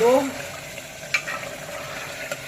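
Onions frying in a pan with ginger, garlic, turmeric and salt for a liver curry, giving a steady close sizzle with a couple of sharp clicks from stirring.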